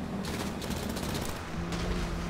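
Gunfire from a GTA 5 heist mission, a dense, continuous fusillade of rapid shots and bursts running steadily throughout at a fairly close, even loudness, with no talking over it.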